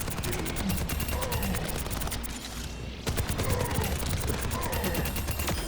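Rapid gunfire from the Overwatch 2 video game, dense repeated shots in steady bursts with a short pause midway, loud and close.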